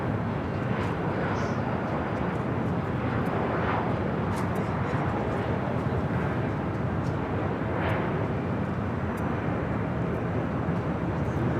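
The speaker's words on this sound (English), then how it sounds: "This is Delta Connection, Flight 3902, coming in from San Jose, California on the E-175." A Delta Connection Embraer E-175 airliner arriving from San Jose, heard as a continuous broad jet roar that stays at an even level throughout, fairly distant and filling the background.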